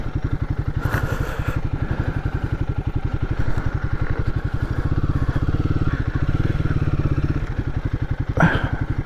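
A Royal Enfield Guerrilla 450 motorcycle's engine runs steadily up close, a low rhythmic thumping throb held at a constant pace throughout with a brief rattle near the end, no talking.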